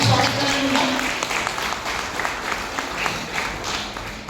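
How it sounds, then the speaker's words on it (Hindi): An audience at a college gathering clapping to welcome a political science professor, sustained applause from a crowd at moderate loudness, with a brief voice heard at the start. "जोरदार ताली बजाकर स्वागत करेंगे"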